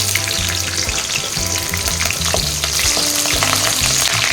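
Green chillies sizzle steadily in hot oil, a dense continuous crackle with scattered pops and brief stirring scrapes, close and fairly loud with no voices.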